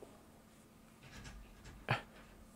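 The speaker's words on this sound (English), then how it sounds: "my dog wants to go outside" A dog whines quietly indoors, asking to be let out, with soft breaths and a brief louder squeak near the end, close and faint, against low room noise.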